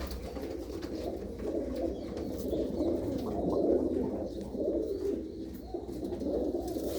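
Pigeons in a hobbyist's loft cooing, several soft, low, rolling coos overlapping close by, swelling in the middle over a faint background hum, with no talking.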